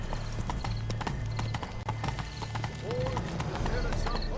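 Horse hooves clip-clop in a steady galloping rhythm in The Witcher 3, loud and close, with a brief whinny, game music and a voice speaking over the hoofbeats.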